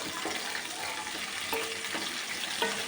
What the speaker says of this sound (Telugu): ఈ వెల్లుల్లి కరివేపాకు అన్నీ బాగా వేగిని పోపేస్తున్నాం